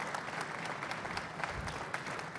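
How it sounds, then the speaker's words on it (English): A crowd at a university groundbreaking ceremony gives steady, soft, even applause that sounds somewhat distant and fills the whole stretch without any voices. "Let's give that a round of applause."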